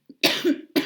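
One sharp, close cough, followed by a brief second burst at the end, with nothing else around it.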